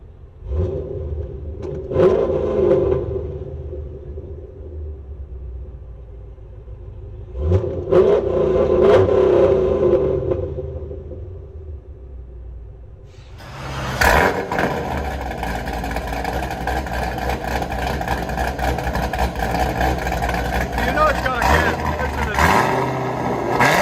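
From inside a Chevy Corvette drift car, its 6.2L V8 with headers and straight pipes revs in two rising bursts, then settles into a loud, rumbling drone as the car drives off.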